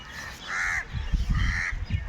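A crow caws twice, each call harsh and drawn out, loud and close, with low rumbling background noise between and beneath the calls.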